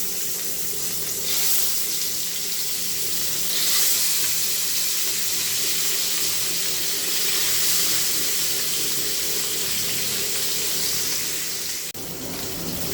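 Fish pieces fry in smoking-hot oil, giving a continuous broad hiss and bubbling sizzle that holds steady throughout, with a slight dip near the end.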